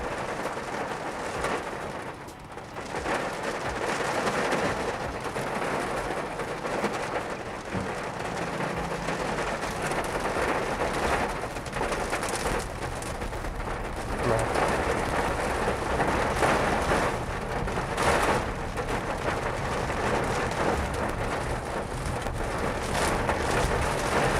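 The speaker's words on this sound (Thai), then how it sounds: "ฝนตกด้วยนะฮะ" Steady rain falling heavily and continuously, a dense hiss of drops with no voices.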